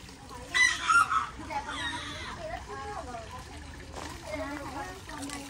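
Chickens cluck and a rooster crows in a short burst at an outdoor spot in California or Las Vegas, with people talking nearby and background bustle.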